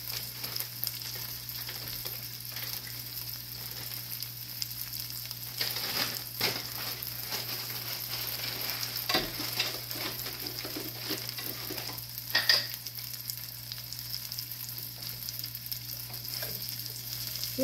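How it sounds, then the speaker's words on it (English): Garlic frying in a pan while being stirred, a steady sizzle with scattered clinks and scrapes of the utensil against the pan, including a sharper knock near the end, no voices. "To that, I'm going to add just a little bit of garlic."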